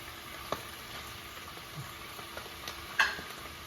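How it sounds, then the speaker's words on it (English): Beef honeycomb tripe and onion being stirred in a pot over medium-low heat, a faint soft sizzle with occasional light scrapes and clinks of the utensil. "Mix it into the pot here. So it has the tripe, has the onion"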